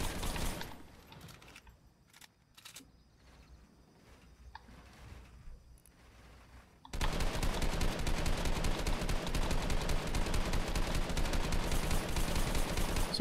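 Rapid gunfire in a battle royale shooting video game, quieter scattered shots at first, then a loud, dense, continuous burst of automatic fire with no talking.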